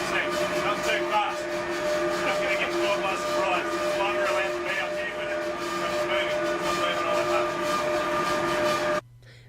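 Radio telescope dish machinery starting to rotate, a loud sustained mechanical grinding drone with steady tonal hum and rattling that runs continuously, then cuts off abruptly near the end, leaving a quieter hum.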